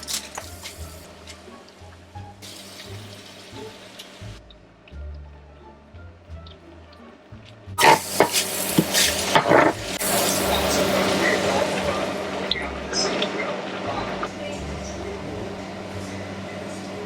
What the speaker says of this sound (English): I'm gonna grab 3 handfuls and just quickly wash them under water